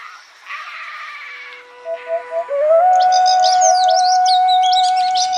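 Clear bird calls from a radio programme about birds: soft chirps and a short run of repeated notes, then a loud, sustained whistling song with bright warbling flourishes above it.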